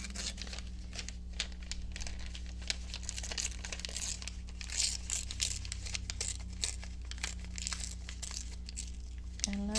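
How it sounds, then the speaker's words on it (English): Paper being torn and crinkled by hand for a collage journal, a close run of quick tearing rips and crumpling over a steady low background hum, with no talking. "I am thinking maybe I'll tear this because I do want to keep the welcome home."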